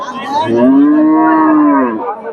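A single long, loud moo from a four-tooth milking cow with a calf, rising and then falling away, heard close up with nothing else around it.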